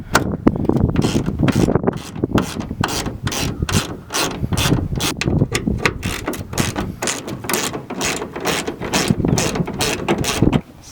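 A hand ratchet clicks steadily through a long run of quick strokes as it backs truck bolts out, the close, sharp pawl ticks repeating without a break and no voices over them.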